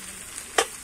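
Jackfruit and shrimp fry in a covered pan, a faint steady sizzle with one brief louder crackle partway through.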